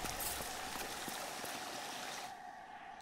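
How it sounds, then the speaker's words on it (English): A steady rushing acid waterfall in the video game Hollow Knight, a constant hiss of falling liquid that continues without break and softens slightly near the end, with no talk over it. "We have an acid waterfall situation."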